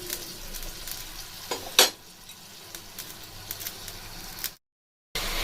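A little water hits a hot cooking pan and sizzles and bubbles steadily before fish is added. A sharp clatter comes near the two-second mark, and the sound cuts out briefly before resuming.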